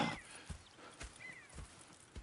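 Horses in the video game Red Dead Redemption 2, with clip-clop hoof steps and faint snorts recurring every half second or so at a moderate distance, over a soft ambient background.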